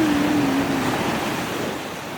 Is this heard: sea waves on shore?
yes